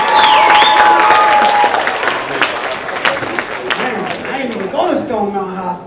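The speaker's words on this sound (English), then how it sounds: "Let's give our panelists a big round of applause." An audience at a high school alumni career day panel applauds the panelists, dense clapping filling the room with cheering voices and a whistle rising over it, then thinning toward the end.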